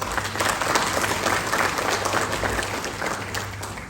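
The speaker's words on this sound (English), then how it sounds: "We have to give them a round of applause." Round of applause from the audience at a university health sciences research dissemination conference, dense and sustained clapping from many people that eases slightly toward the end, with a faint voice underneath.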